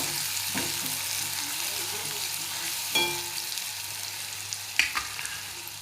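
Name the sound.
ginger and garlic sautéing in a pan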